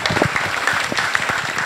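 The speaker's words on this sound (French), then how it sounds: "Sous les applaudissements nourris du public" Sustained applause from the public at the inauguration of a parish church in Goyave, a dense patter of many hands clapping together, fairly loud and brief.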